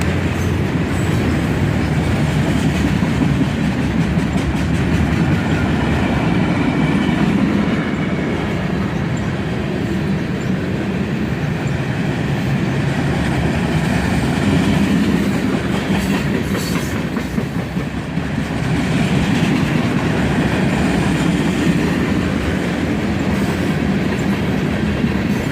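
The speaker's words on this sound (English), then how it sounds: "Lots of coil shield cars on this train." A freight train carrying many coil shield cars rolls past at close range, a continuous loud rumble with repeated clickety-clack of wheels over rail joints and occasional faint squeals, sustained for the whole stretch.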